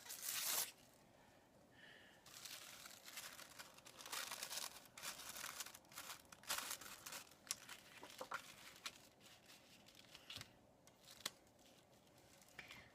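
Paper torn by hand while scrapbooking, faint dry ripping and crinkling in short irregular bursts, quiet and close.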